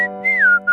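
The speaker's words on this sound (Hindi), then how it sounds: "इतनी रात को इतनी मस्त सीटी कौन बजा रहा है?" A woman whistles with her mouth in one clear, close, melodic phrase: a held note, a brief break, then a rising and falling glide that settles on a lower tone before resuming.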